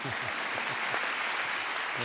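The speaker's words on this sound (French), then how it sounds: "c'est tout le public ici présent pour vous écouter et qui applaudit votre présence parmi nous" A hall audience gathered for Stéphane Bern at USJ in Lebanon claps continuously, and a voice speaks over the steady wash of applause.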